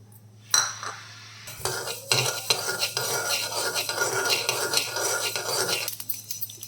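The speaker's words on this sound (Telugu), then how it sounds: "ఆవాలు ఫ్రై చేసుకుందాం" Mustard seeds frying in a pan for a gongura pickle, a steady crackling sizzle with spoon stirring and scraping against the metal pan, close and continuous.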